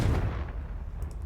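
Explosive spell blasts go off in a Hogwarts Legacy battle, a heavy booming burst with a rumbling low-end tail, loud and brief, with no talking over it.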